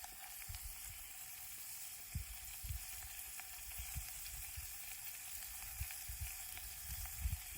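Garlic sizzles and fries in a pan over a camp stove in the wild, a steady crackling hiss with soft stirring knocks, close and alone.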